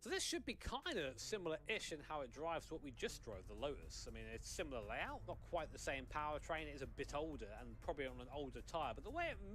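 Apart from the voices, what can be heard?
None of the usual background noises is heard.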